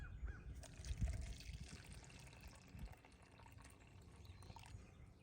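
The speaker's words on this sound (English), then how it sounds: "Fill it up with 8 ounces of water." Water runs from a tap into a large mug with measurement markings, filling it with about eight ounces; a faint, close trickle with a few soft clunks of the cup, quiet and without talk.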